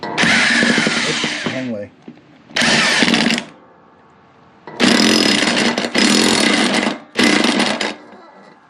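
Power impact tool ratcheting a John Deere X320 mower deck blade bolt, several loud bursts of rapid hammering separated by pauses, with a short spoken remark between them.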